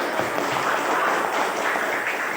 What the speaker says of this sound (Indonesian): Oke, silakan tepuk tangan tuh.